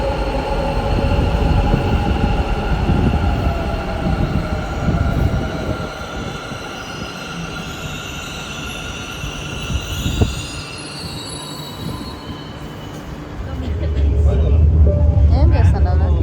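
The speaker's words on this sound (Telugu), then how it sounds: "ఈ పక్క వచ్చే ట్రైన్లో వెళ్తాం" A metro train pulls into a station, its wheels squealing and rumbling loudly before easing off, then swelling again near the end, with people talking nearby.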